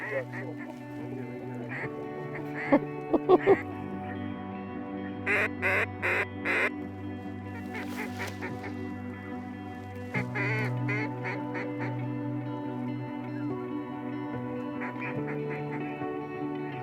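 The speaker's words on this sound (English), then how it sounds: "Flock after flock following the same path, right to the spinners." Flocks of mallard ducks in the morning over a field, a mix of quacking and honking calls in short bursts, fairly close, with humming tones and a person's voice in the background.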